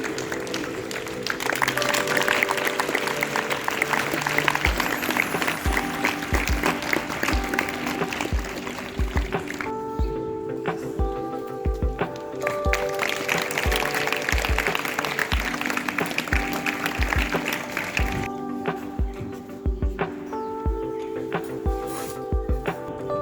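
A live audience applauds to welcome two guests onto a Hindi question-and-answer show, with sustained, dense clapping blended with loud rhythmic music and a thumping beat throughout.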